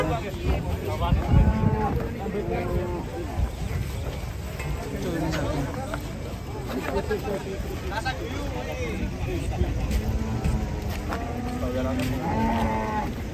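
Cattle moo repeatedly amid a crowd of livestock, with overlapping calls near and far over a busy murmur of people talking.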